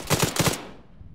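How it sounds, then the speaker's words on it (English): A rapid burst of about four automatic gunshots rings out in a military shooter game, loud and close, then the final shot decays into a fading echo tail. "I see guys shooting at you"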